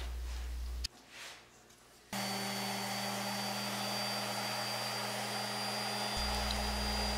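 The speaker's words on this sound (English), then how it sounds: "I turned my sander on and let it do its thing" An electric sander works a wooden piano bench, its steady whirring motor drone broken by a brief dip near the start before the even, close hum returns and runs on alone.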